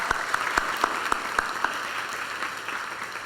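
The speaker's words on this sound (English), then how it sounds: "please join me again in a round of applause for Atambara and Precious" Applause from a conference panel audience, steady and moderately distant, a crowd clapping together for several seconds with no talk over it.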